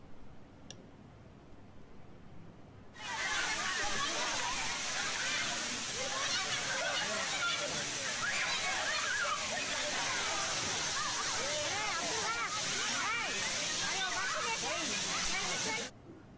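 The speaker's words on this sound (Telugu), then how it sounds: "రతం గుట్టపై గలగలా పారే శబ్దాల సవ్వడితో జాలువారుతోంది వెన్నెల జలపాతం" The Vennela waterfall in Kothagudem cascades over rocks, giving a loud, steady rushing hiss that starts abruptly after a quiet opening and continues unbroken before cutting off.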